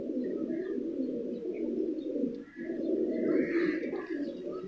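A pigeon coos steadily and close by in a low, throaty, continuous rolling murmur, with a few faint chirps from other birds in the background.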